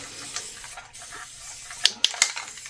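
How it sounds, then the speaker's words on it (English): Spray paint can giving several short hissing bursts near the end, after a stretch of quiet room tone and faint handling noise. "I've been bringing back the spray paint."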